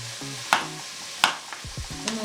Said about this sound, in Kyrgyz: Муну азыр кууруп атат.